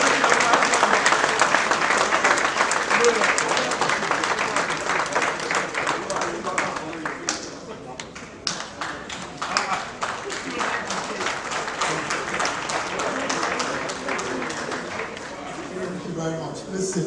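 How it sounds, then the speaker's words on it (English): A large audience applauds Nigeria's Vice President at an evening event, dense sustained clapping that carries on for many seconds and fades slightly toward the end. "A round of applause for him,"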